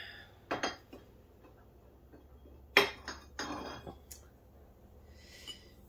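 A glazed ceramic butter dish fresh from a kiln glaze firing, handled on a hard surface, giving a few close, sharp clinks and knocks with quiet pauses between them.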